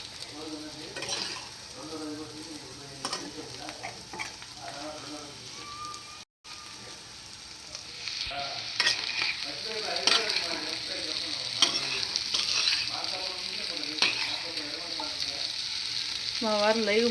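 Potatoes frying with garlic and chili powder in a pan, a steady oily sizzle with occasional stirring scrapes and clinks, the sizzle growing louder partway through, with no voices.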